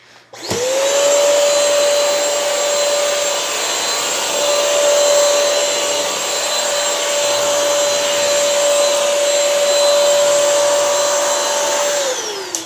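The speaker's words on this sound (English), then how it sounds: "that's how easy it is to clean up a spill with the Bissell Crosswave" Bissell Crosswave cleaning a grape juice spill on a rug, a loud steady whirring motor hum with a constant whine that starts abruptly and runs unbroken for about twelve seconds before cutting off.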